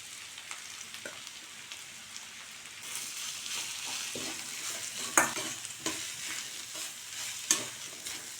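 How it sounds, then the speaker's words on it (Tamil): Grated coconut is stirred into bitter gourd frying in a pan, giving a soft steady sizzle with scraping spoon strokes and a few sharp clinks against the pan, close by and without talk. "இப்போ இதில் தேங்காய் சேர்த்து கிளறிட வேண்டியதான்"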